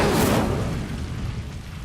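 An Incendio fire spell cast in a Hogwarts video game gives a short whooshing burst of flame that flares loud at the start and then dies into a fading rumble, heard alone.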